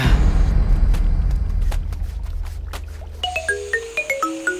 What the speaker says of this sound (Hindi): मुझे क्यों फोन कर रही है?